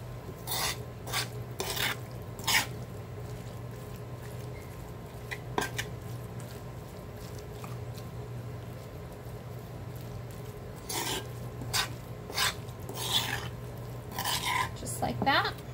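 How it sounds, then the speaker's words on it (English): A utensil mixes shredded chicken with enchilada sauce in a bowl, making bursts of wet clicks and scrapes against the sides, separated by quieter pauses with a low steady hum underneath. "And we're just going to mix that together."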